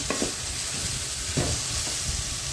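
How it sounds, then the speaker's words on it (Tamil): Ridge gourd chutney ingredients frying in oil over a low flame, a steady soft sizzle with a few light stirring scrapes now and then, no talking. "சிம்மில் வச்சு நல்லா வணக்கிட்டே இருக்கணும்"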